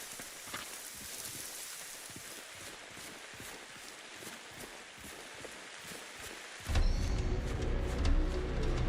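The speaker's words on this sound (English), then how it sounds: "Oh yeah, we got some weather effects going on. It's raining now." Rain weather effect in the video game Generation Zero, a soft, steady patter with scattered tapping steps, quiet and even, then swelling into a louder, fuller rush near the end.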